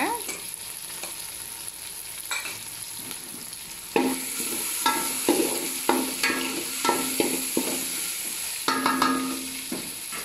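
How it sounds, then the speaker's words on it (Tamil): Tomatoes and chillies sautéing in hot oil for a dried-fish curry, a soft sizzle that grows louder midway, with frequent close spatula scrapes and stirring knocks against the pan. "தக்காளி நல்லா வதங்கின பிறகு மிளகா போடுங்க"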